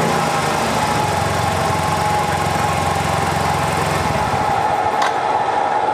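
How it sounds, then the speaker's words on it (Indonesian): A Yamaha Soul GT motorcycle engine, just repaired after an ignition fault, idles steadily and close by with a loud, even putter, no voices over it. "Sekarang kita tes, kita hidupkan mesinnya."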